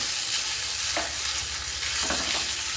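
Food fries in a kadai with a dense, constant sizzle, joined by two louder scraping strokes of stirring and a low steady hum underneath.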